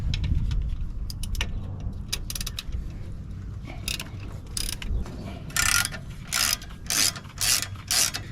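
A ratchet loosens the alternator on a Kubota L-Series tractor, giving bursts of quick, close metallic clicking between quieter handling and clanking of parts.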